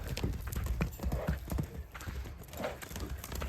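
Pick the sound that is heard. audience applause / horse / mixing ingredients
horse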